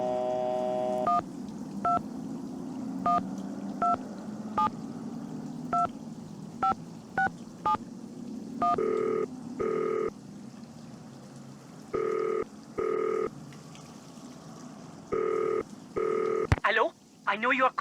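Telephone keypad tones beep in a sequence of short evenly spaced presses, followed by longer paired ringing bursts, with a low background music bed underneath; in the Nancy Drew video game Danger By Design.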